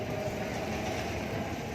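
A train rolling past near Ikeda station in Japan, a steady low rumble and rattle of rail cars heard at moderate distance, continuous and even throughout.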